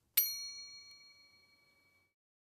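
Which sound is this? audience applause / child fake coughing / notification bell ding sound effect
notification bell ding sound effect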